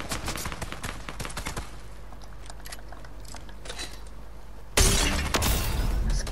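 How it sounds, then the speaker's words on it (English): Video game gunfire: rapid bursts of shots crackle through the first second and a half, then a loud, close volley erupts near the end and keeps rattling, with no talk over it. "Oh crap, I'm being shot at."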